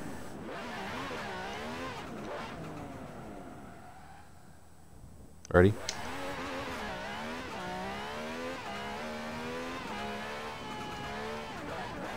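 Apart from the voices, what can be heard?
Lamborghini Gallardo engine with turbo popping and banging, Forza Horizon 4 video game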